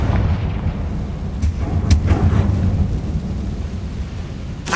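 A Confringo explosive spell goes off in Hogwarts Legacy, a loud, close, rumbling blast with a few sharp cracking bursts over a deep sustained roar lasting the whole few seconds, with no talk.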